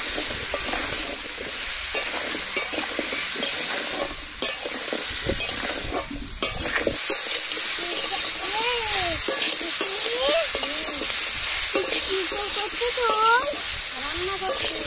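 Crab pieces, pumpkin and potato sizzling steadily in a hot pan while being stirred, with continuous loud frying hiss and scraping stirs, and a voice talking over it at times.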